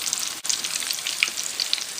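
Artichokes fry in boiling oil with a loud, steady sizzle of crackles and pops, alone and close up.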